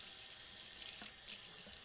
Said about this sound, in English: Just use my hand to catch the beets down my sink.